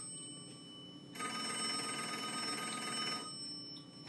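A salon telephone rings in one sustained electronic burst lasting about two seconds. It is moderately loud against a quiet room and stops abruptly, leaving only a faint background hum.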